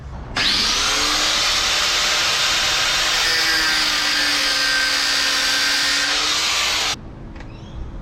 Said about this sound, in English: gently cut it here with the grinder and then fold that open and pull it out